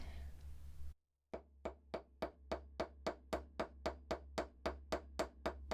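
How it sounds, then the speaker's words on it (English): A hammer flattens the end of a wire in a steady, even rhythm, about fifteen sharp taps in a row, close up and fairly quiet. "I'm going to hammer the end of this flat"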